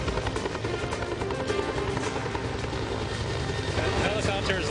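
A search helicopter's rotor drones steadily at a moderate distance, a continuous throbbing hum throughout with no break.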